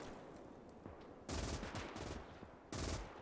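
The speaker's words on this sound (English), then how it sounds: "Mountain guns are firing." Mountain guns firing in a WWII real-time strategy game set on the Eastern Front, heard as a few loud, broadband artillery blasts with rumbling tails over a continuous battlefield din, two heavy bursts standing out.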